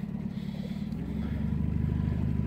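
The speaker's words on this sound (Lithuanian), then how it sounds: "Lekia ta mano valtis" A fishing boat speeds across the water, its outboard motor a steady low drone that grows slightly louder, with no voices.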